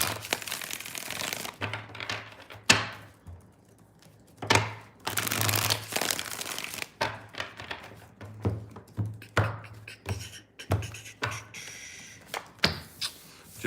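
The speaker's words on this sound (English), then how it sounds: "Let's get 2 more shuffles here" A deck of tarot cards is shuffled in repeated quick riffling bursts with short pauses between them, crisp and close.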